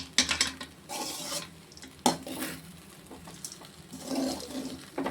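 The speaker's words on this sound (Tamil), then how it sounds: "இப்போ தேங்காய் பூ வந்து அந்த சோத்தோடு ஒட்டுற மாதிரி நம்ம நல்லா கிளறி எடுத்துக்கிறோம்" A spoon scrapes and turns cooked coconut rice with grated coconut in a metal pan, the stove switched off, giving repeated close, dry scraping strokes with short clanks and brief pauses.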